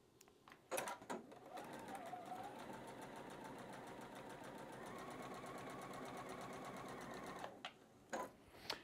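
Sewing machine stitching a batik quilt block, a short tap, then a steady continuous whirring run of several seconds that stops, followed by a few soft handling knocks, quiet and close with no talk.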